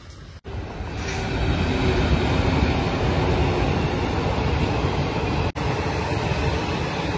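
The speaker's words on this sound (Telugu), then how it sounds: "ఇక్కడ రైల్వే ట్రాక్ ఉంది, మేబీ ట్రైన్ వస్తున్నట్టుంది" A train passes near a railway crossing with a loud, steady rumble and rolling clatter that holds throughout, and nobody speaks.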